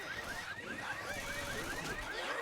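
Warbling car alarm from a Left 4 Dead match, a steady repeating electronic whoop-and-chirp pattern that keeps going the whole time over dense game noise, somewhat distant and with no talking.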